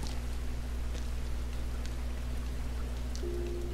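Steady, dense hiss of falling rain in the PlayStation video game Rain, continuous and even throughout, with a low droning hum underneath and a faint sustained tone entering near the end.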